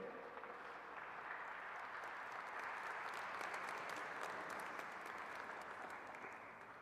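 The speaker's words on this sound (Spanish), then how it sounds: "Les pido un fuerte aplauso para despedir a nuestros representantes, convocantes del evento" Crowd at an event inauguration giving sustained, even applause to send off the event's organisers, a soft, somewhat distant wash of clapping throughout.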